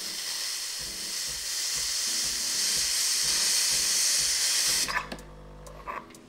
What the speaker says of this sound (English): Activate the steam for about 20 seconds.